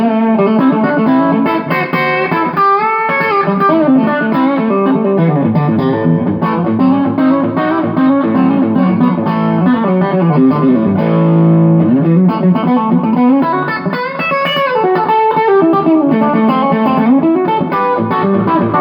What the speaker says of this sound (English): Here's the Sans amp with the blonde amp turned on.